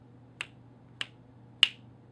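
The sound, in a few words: finger snapping in a song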